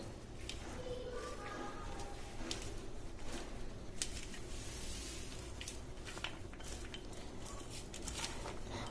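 Sliced onions being mixed by hand with curry leaves and coriander for Andhra ulli karam, a steady soft squishing and rustling with faint clinks of a bowl, close and continuous throughout.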